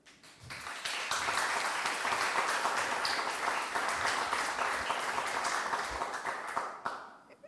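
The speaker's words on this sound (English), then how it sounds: "I think we have to give them a great applause for making this such an event possible." Audience applause at a table tennis health congress: sustained, dense clapping from a large crowd that swells quickly, holds steady for several seconds, then fades out.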